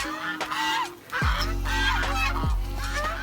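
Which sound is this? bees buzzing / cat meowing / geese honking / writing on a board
geese honking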